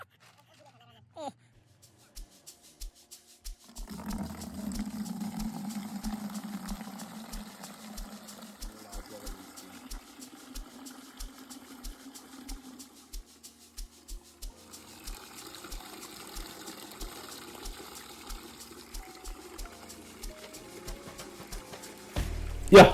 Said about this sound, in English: we are actually refilling our drinkers with water that has been mixed with a stress pack